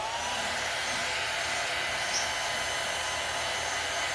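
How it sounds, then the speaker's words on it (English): A handheld blow dryer runs steadily to dry paint on a craft vase, a constant, even whooshing drone from start to finish with no talking. "I'm going to run this blow dryer for a minute"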